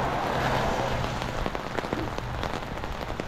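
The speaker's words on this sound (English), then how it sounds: "Walk in the RAIN!" Rain falls steadily on a surface during a walk, a dense close patter with scattered sharper drips, heard without voices.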